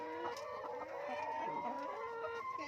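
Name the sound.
chicken clucking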